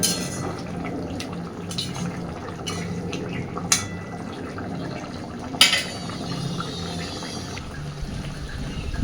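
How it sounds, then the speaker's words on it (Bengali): Eggplant and catla fish curry bubbling gently in a pan over a medium gas flame, a low steady simmer with soft liquid popping and a couple of sharp clinks of utensils, with no talking. "এইবার গ্যাসের ফ্লেমটাকে মিডিয়ামে রেখে হালকাভাবে মিনিট 2-3 ফুটিয়ে নেব জাস্ট"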